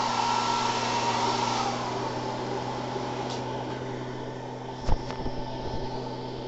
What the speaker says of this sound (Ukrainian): Охолодження працює досить активно, видуває на цю сторону повітря.